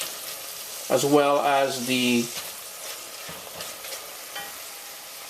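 Curry powder sizzling in hot oil in a pot while being stirred for a coconut curry pumpkin soup, a soft steady fry under a voice that speaks briefly at the start, then quieter crackling alone.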